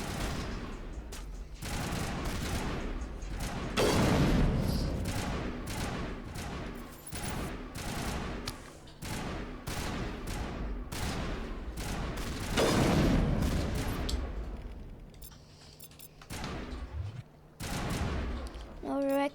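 Dense crossfire in the Mass Effect video game: rapid, overlapping gunshot bursts and loud booms rattle continuously for the whole span, swelling at several points.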